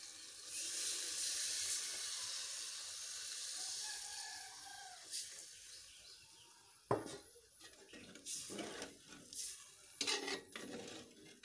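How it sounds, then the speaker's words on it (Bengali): Water is poured into a cooking pot of sautéed spices for an egg curry, a steady rushing pour for a few seconds, followed by quieter clinks and splashes. "এখন পানি দিয়ে দেবো পরিমাণ মতো।"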